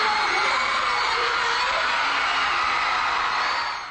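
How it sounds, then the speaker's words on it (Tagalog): Fans screaming and cheering at a 2NE1 press conference held in a mall, a dense, loud, sustained roar of high-pitched crowd shrieks filling the space without letting up, fading slightly at the very end. "Tila dumagundong ang venue sa lakas ng hiyawan."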